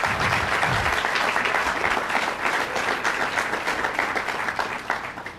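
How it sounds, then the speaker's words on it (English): Audience applause for a guest speaker at a Sacred Trust Talks lecture on Joshua Chamberlain, steady dense clapping from a full room, loud and continuous throughout. "go ahead and applause"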